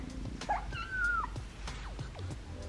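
A kitten gives a drawn-out, rising and falling meow near the close microphone, followed by softer squeaky calls and light rustling in a quiet indoor room.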